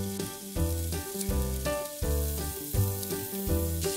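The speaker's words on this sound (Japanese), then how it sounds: "ごま油でもやしと水菜も炒めます。" Bean sprouts and mizuna sizzle in sesame oil in a pan, a loud, continuous frying hiss broken by rhythmic scraping strokes of stirring about every half second.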